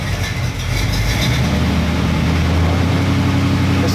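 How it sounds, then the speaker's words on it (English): A Chevy small block 350 V8 idling smoothly around 600 to 700 RPM while being checked for a misfire, a steady, loud, close low rumble that holds throughout. "That's idling at a pretty smooth 600 or 700."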